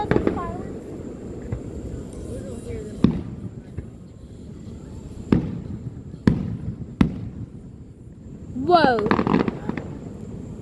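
Fourth of July fireworks display: several sharp, loud bursts and pops spaced a second or two apart, followed by a crackling cluster, with people chatting and exclaiming throughout.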